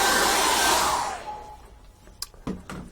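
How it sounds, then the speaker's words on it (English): A hair dryer drying acrylic paint blows with a loud, steady whoosh, then winds down and shuts off, followed by a few light clicks and taps. "I'm just going to get my faithful hairdryer on that and dry that off as quick as I can."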